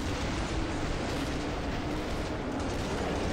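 Loud, dense blast noise from a grenade exploding in the game Killing Floor 2, a continuous broadband roar filling the whole clip with no clear gaps, like rolling explosions amid heavy combat.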